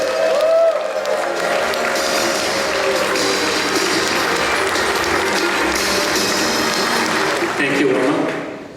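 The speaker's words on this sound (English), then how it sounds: "Let's give a big round of applause to the VP and Park Manager for Six Flags Over Texas, Mr. Mark Boyer." A crowd at a Six Flags Over Texas ride announcement event gives sustained applause with some cheering, a dense continuous clapping wash lasting several seconds before fading, with a voice over it.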